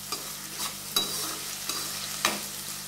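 Chopped onions with salt being stirred in a frying pan, soft steady sizzling broken by a few distinct scraping strokes of the spatula, quiet and close, no talk.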